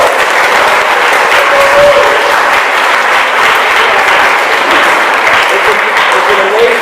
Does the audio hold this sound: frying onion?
no